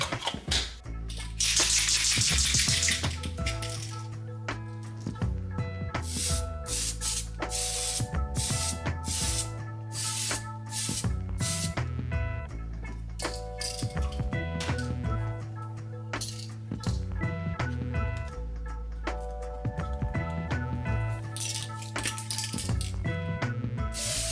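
A can sprays French blue paint onto a Plarail Gordon toy train part in one loud aerosol hiss near the start, with steady background music playing throughout.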